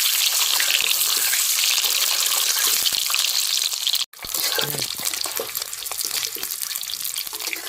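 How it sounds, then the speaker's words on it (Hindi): Eggs frying in a pan, a loud, steady, hissing sizzle close up that runs continuously apart from one brief cut partway through. "दोस्तों इसी तरह से बारी बारी से सभी अंडा को फ्राई बढ़िया से कर लेंगे"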